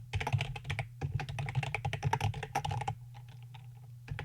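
Typing on a computer keyboard while coding, rapid uneven clusters of close clicking keystrokes with brief pauses, then lighter sparse taps near the end, over a low steady hum.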